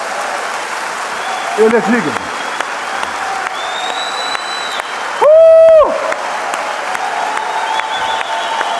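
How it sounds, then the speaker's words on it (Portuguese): A church congregation applauds in a steady, dense wash of clapping that holds throughout, with a voice speaking over it. "eu quero convidar você a abençoar o nosso Senhor Jesus Cristo com um aplauso"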